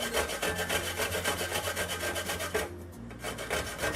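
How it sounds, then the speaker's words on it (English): Something is rubbed briskly over the fine side of a hand grater in quick, even rasping strokes, close and steady, with a short break in the rhythm before the scraping resumes. "So I'm just going to grate it on this side."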